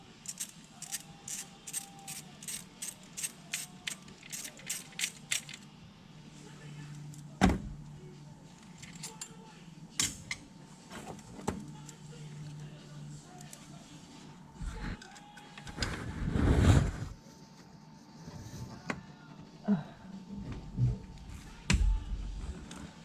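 Top bolts being loosened from the fuel injector hold-down brackets of a BMW N55 engine in an F10, using a 1/4-inch ratchet: rapid bursts of close ratchet clicking, then scattered metallic clanks and handling knocks.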